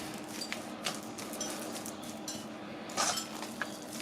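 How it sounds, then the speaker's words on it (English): Egg being whisked in a bowl with a utensil for Scotch eggs, quick clinks and scrapes of metal against the dish in irregular bursts, close and fairly quiet, no talking. "So I just want to mix the egg up"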